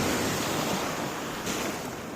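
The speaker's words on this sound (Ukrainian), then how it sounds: "Щось хвилі так розхвилювалися, що я вирішила так, трішечки пересяду, щоб та вода мене не досягнула." Sea waves wash steadily onto the shore nearby, a loud continuous surf roar mixed with wind buffeting the microphone.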